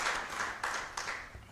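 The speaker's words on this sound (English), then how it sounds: "Please join me in thanking her once again with another round of applause." Conference audience at an African women theologians gathering applauding, a dense steady wash of clapping with a few sharper bursts, moderately faint and without speech.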